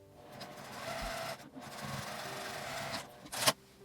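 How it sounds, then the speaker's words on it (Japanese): A home sewing machine stitches the side seams of a fabric sewing machine cover, giving a steady mechanical whirring rattle in two short runs split by a brief pause, then a sharp click at the end, with no talk. "ミシンで縫います。"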